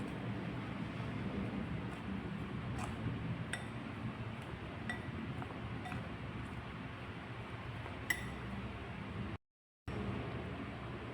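A spoon stirs instant yeast into a dough mixture in a bowl, giving a few soft, scattered clinks over a steady low background hiss.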